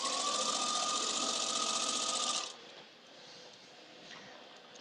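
A sewing machine stitching through a soft rag quilt runs in a steady, loud whir for a couple of seconds, then stops, leaving a faint room hum.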